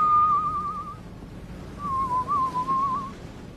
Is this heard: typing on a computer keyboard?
no